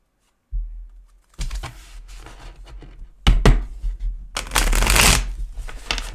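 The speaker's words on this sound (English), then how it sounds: "I'm going to give it another good shuffle." A deck of tarot cards is shuffled repeatedly up close during a live spirit-contacting session, with rapid riffling bursts and soft taps that grow louder and denser toward the end, with no talking.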